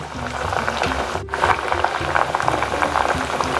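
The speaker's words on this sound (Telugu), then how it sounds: "ఇలా వచ్చిందంటే ఇంకా అలోవెరా బాయిల్ అవ్వాలి" Homemade aloe vera hair oil boils in a pan with continuous close bubbling and popping, briefly interrupted by a short scrape before the bubbling resumes.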